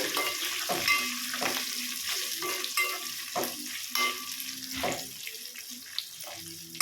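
Red chillies roast in hot oil for a chutney, a steady sizzle broken by regular scraping stir strokes of a spoon across the pan, close and fairly loud with no voices.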